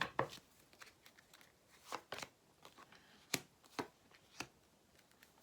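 Tarot cards are shuffled and drawn in a quiet room, giving a series of soft, irregular papery snaps and flicks, close and faint, with no talking.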